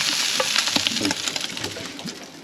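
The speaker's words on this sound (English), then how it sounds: "I've got to turn my sausages." Sausages sizzle and spit steadily in a pan at a campsite on a fishing trip, a dense close crackle with small pops and a few light clicks of the pan, no voices.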